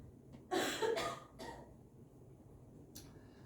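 Two or three close, loud coughs in quick succession from a person in a church setting, followed by a softer throat sound and quiet room tone.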